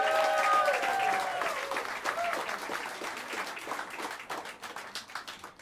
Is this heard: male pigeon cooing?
no